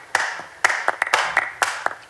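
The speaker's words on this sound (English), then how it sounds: "clap samples in the break" Crisp, dry clap samples in a music production break, hitting in a loose syncopated pattern of about ten sharp, close, bright claps with short tails and no other sounds in between.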